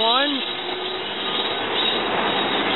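Rail car pulling out of Bethayres station, a brief rising squeal at the start giving way to a steady rushing rumble of wheels on track, fairly close and continuous.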